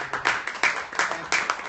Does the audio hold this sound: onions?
no